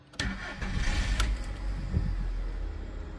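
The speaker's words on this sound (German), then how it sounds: "Zum guten Schluss starte ich natürlich nochmal das Fahrzeug" A car engine cranks and catches after an ABS hydraulic block repair, a quick starter burst followed by a steady idle rumble, close and alone.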